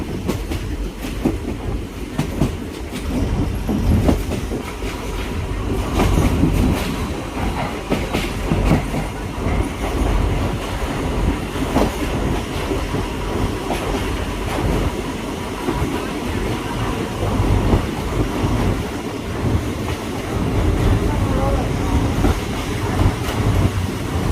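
Passenger train 313 running from Hua Lamphong to Bang Sue in Bangkok, heard from inside: a loud continuous rumble with rhythmic wheel clatter on the rails throughout.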